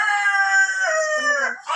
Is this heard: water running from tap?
no